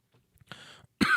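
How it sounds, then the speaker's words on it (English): A person with a sore throat and slight fever gives a single short, loud cough at the end, following a few quiet throat sounds and a soft breathy noise. "I'll probably cough again."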